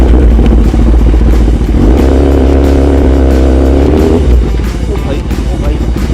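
A Kawasaki Ninja ZX10R superbike revs loudly and rides off a bed of nails, its engine drone steady and close, with clattering and excited voices over it.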